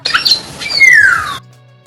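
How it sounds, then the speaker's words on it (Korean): A black-naped oriole gives a short, loud call, starting with rough squawky notes and sliding into a clear whistled phrase that falls in pitch, then stops abruptly. The bird is close and sings alone. "실제 꾀꼬리 소리입니다"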